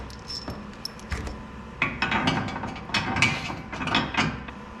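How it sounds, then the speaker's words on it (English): Bolts are tightened while a Back Rack is installed on a 2021 Chevy 2500 HD Duramax: rapid close-up ratchet clicking with metallic clinks and small rattles in irregular bursts, fairly quiet and with no talking. "Now we should be able to go ahead and tighten these down."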